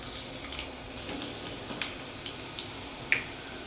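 Chopped garlic fries in hot oil with cumin, mustard seeds and whole coriander, a quiet, even crackling sizzle punctuated by a few faint pops and spits, with no one speaking.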